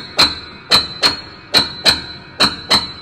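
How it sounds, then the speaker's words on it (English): Piano hammers striking strings in a prepared, percussive passage from Helmut Lachenmann's Ein Kinderspiel: six sharp, evenly spaced knocks with brief ringing resonance, close and alone. "we start hearing the hammers hitting the strings"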